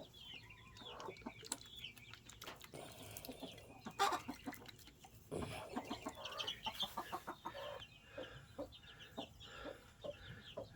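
Chickens cluck and call inside a chicken pen with baby chicks, a busy stream of short, overlapping clucks and peeps at close range with a few louder squawks, no voices.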